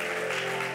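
A church congregation applauding, a steady dense wash of clapping filling a brief moment without pause.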